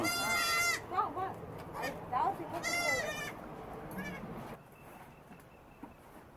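Goat kids on a goat farm bleat in loud, quavering calls several times, close by, with a person talking over and between the cries.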